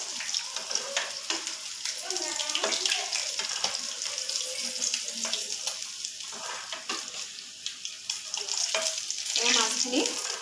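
Fish pieces fry in a pan for an Assamese jika and fish curry, a continuous sizzle punctuated by stirring and scraping, with running water from a tap and brief kitchen clatter.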